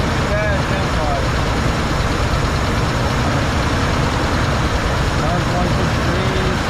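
1970 Ford F250 truck engine idling slightly high, a dense, close, continuous rumble with even intensity throughout, while a person speaks over it.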